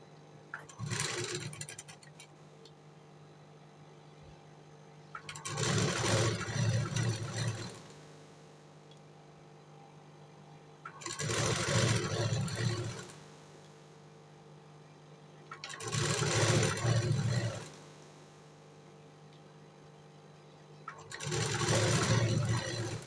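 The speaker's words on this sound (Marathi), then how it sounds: "तर मी आता कमरेच्या साईडून शिलाई मारून घेणार आहे." Domestic sewing machine stitching the waist side seam of a boat-neck blouse, running in five loud bursts of a few seconds each, separated by quiet pauses, with a steady low hum throughout.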